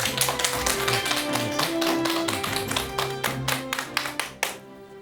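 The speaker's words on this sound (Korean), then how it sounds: "큰 박수 부탁드립니다" Studio audience applause greets a guest professor on a Korean talk show, a dense, steady patter of clapping with music underneath that thins out and fades near the end.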